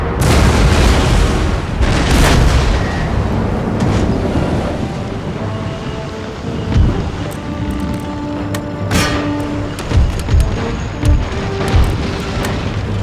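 Cannon broadsides fired at an enemy ship's sails during a naval battle in Empire: Total War, heard as several deep booms over a steady roar of ocean waves and wind, with heavier blasts scattered through the second half.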